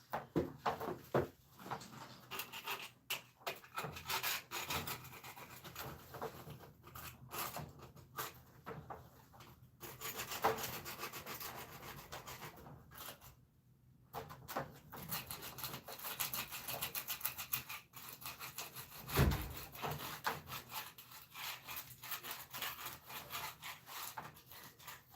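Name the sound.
scraper scraping wood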